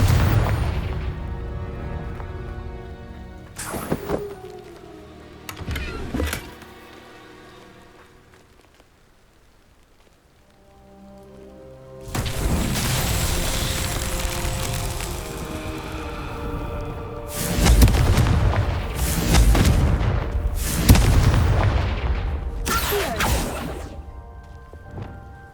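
Confringo fire spells explode in Hogwarts Legacy. A few sharp blasts open the passage, then a long roaring stretch of crackling, rain-like debris follows, punctuated by several loud booms near the end.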